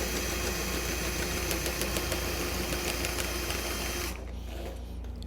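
A power nut spinner whirs steadily as it drives a nut onto a threaded rod in a woodworking shop, a loud continuous mechanical hum that drops in level near the end.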